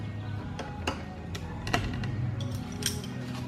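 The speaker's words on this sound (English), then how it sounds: "Here's where I'm gonna need the 10 millimeter wrench." Metal clicks and ratcheting ticks from a 10 millimeter wrench snugging lock nuts on a motorized cooler, a string of sharp, close taps with brief pauses, no talking.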